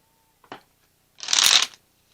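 Tarot cards shuffled once, a short soft tap followed by a brief riffling burst of close, clear card flutter in a quiet room.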